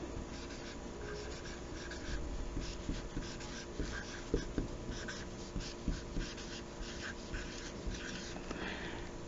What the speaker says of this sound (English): I'm going to write some words